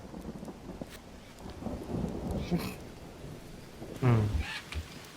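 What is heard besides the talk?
rain and thunder in video game Green Hell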